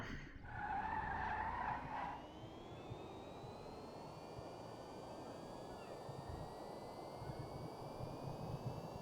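An upgraded electric race car from GTA Online, the Penaud La Coureuse, accelerating down a track, with a brief tire squeal at the start followed by a steady, fairly faint high-pitched electric whine and road hiss.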